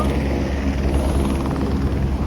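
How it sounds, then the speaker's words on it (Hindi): A helicopter near Kedarnath in the Himalayas rumbles with a low, chopping rotor thrum, loud and continuous, with no talking. "हेलीकॉप्टर देख लो गाइस"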